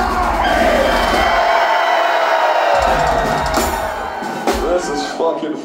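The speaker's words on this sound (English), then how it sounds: "let me fucking hear you scream one last time!" A metal concert crowd at the Regency in Springfield screams loudly and continuously, a dense roar of shouting and whooping from many people that rises near the end.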